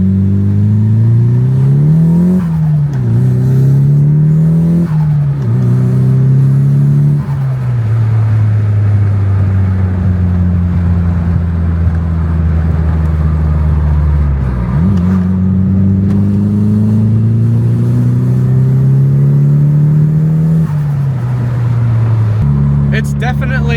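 A Nissan S15 with a modified DMAX exhaust drones loudly from inside the car, its engine note rising and falling through repeated revs and gear changes, with a person speaking over it.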